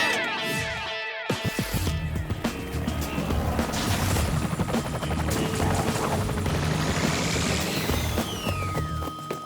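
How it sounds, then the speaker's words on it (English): Helicopter in an animated spy series, its rotor thumping and engine whining loudly among busy action sounds and crashes, continuous and close. "I'll send the chopper."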